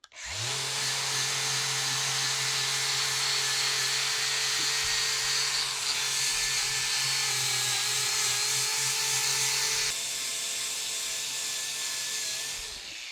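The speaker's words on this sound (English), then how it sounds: "So I think I'm going to start with the wire wheel." Loud, continuous whirring of a wire wheel scrubbing rust off a cracked Prentiss Bulldog vise casting, a steady high-pitched grinding drone that holds for several seconds before spinning down.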